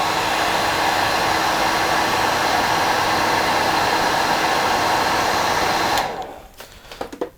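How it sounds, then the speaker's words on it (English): A hairdryer blows steadily and loudly, close by, to set super glue on a fly-tying pattern, a Brown Organza Traffic Light Diawl Bach, then cuts off abruptly near the end, leaving faint handling clicks. "I could use a hairdryer"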